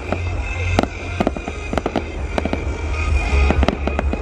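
New Year fireworks bursting in Yen Bai, a rapid series of loud, sharp explosions and cracks over a steady low rumble, close by and continuous.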